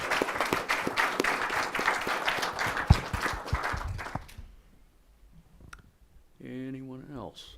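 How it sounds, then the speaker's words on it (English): A congregation at a Sunday service gives a big round of applause, dense clapping with a few sharp knocks that dies away after about four seconds, then near quiet before a voice starts speaking. "he deserves a really big round of applause"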